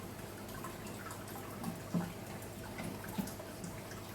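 Water runs through an NFT aquarium aquaponics system with a steady, soft trickle, broken by a few brief drips.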